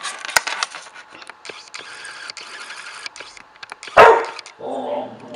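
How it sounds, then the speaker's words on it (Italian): Scattered small clicks and mechanical handling noises lead up to one sharp, loud dog bark near the end, followed by a brief lower rumble. "C'è il cane cattivo."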